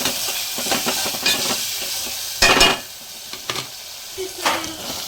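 Ginger paste and turmeric fry in a pan for a broad bean curry, a moderate crackling sizzle with spoon scrapes and one brief louder burst of hiss.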